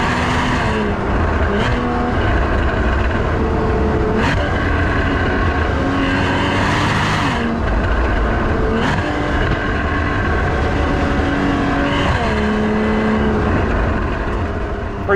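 A Porsche Cayman S 981 flat-six engine revs repeatedly, climbing and dropping through the gears with sharp throttle blips. The engine note stays loud and close for the whole stretch, with no talking.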